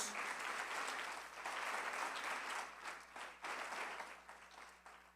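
A church congregation applauds for Jesus, a steady wash of many hands clapping together at moderate distance, swelling and dipping slightly but continuing throughout without any talk.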